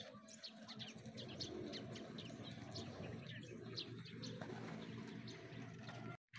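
Racing pigeons coo softly while coming down to land at a loft during training, with a continuous low burble of cooing and scattered faint chirps, fairly quiet and close.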